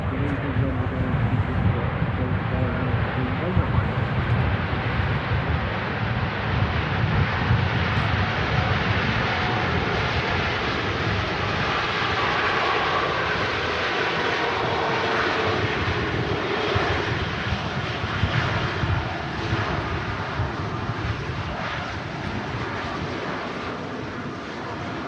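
A Boeing 777-300 in a strong crosswind at Manchester Airport gives a continuous, loud jet engine roar with gusty wind noise throughout.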